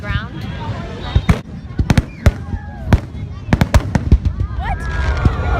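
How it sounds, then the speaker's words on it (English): A firework bursts on the ground outdoors, setting off a rapid, irregular string of loud sharp cracks and pops, with voices talking and reacting over the noise. "One of the fireworks exploded on the ground."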